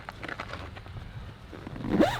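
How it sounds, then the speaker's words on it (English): Zipper on a Jeep Wrangler soft top being pulled closed, soft scraping strokes at close range building to a louder final zip near the end, with faint rustling in between. "zip it all the way up"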